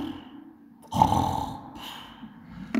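A mosque preacher giving a funeral sermon imitates snoring with his voice, one low rasping snore followed by a pause and a second short snort.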